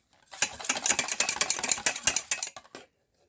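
A laundry bar soap mixture is stirred in a container, a rapid, dense run of scraping clinks and taps lasting a few seconds, close and fairly loud, then stopping abruptly, with no talk.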